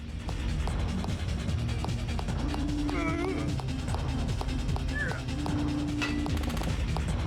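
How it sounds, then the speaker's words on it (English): Shotgun blasts from the video game Spy Games: Elevator Mission come as several sharp, evenly spaced bangs over a dense, loud game soundscape, with brief electronic tones between shots. "I still have to two-shot these guys with the shotgun?"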